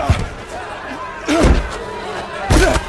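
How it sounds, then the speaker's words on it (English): A dramatized door slams with heavy thuds, two loud impacts about a second apart plus an earlier knock, amid crowd noise and a speaking voice. "But the men reached out their hands and pulled Lot into the house with them and shut the door."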